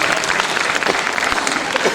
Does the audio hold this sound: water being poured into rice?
no